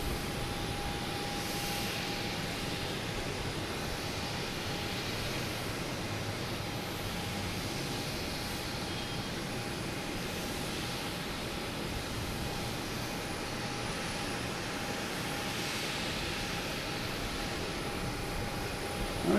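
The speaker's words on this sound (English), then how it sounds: "Delta taking off, going to DC." Distant, steady roar of a Delta jet airliner taking off at Boston Logan Airport, a broad, even engine rumble with a faint whine, lasting throughout and fairly quiet.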